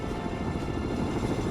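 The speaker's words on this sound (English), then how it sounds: "Radar is picking up several enemy helicopters moving toward Liberty Island." Enemy helicopters in the PC war game World in Conflict give off a dense, continuous rotor and engine roar, loud and steady throughout with no voices.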